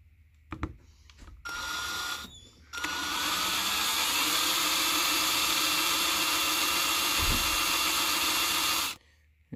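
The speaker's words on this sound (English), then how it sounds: "And just like that, all drilled out." Small rotary drill boring out the rivets on a Hot Wheels 1969 Mercury Cyclone die-cast car, a steady high whine running continuously for several seconds after a few short bursts, then cutting off.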